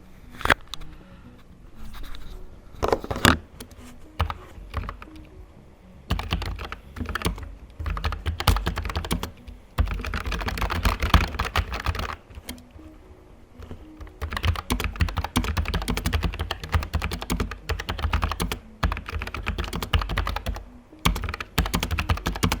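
Logitech MX Mechanical Mini keyboard being typed on freestyle, a close, busy run of clicky keystrokes with brief pauses and heavier thunks, no voices over it.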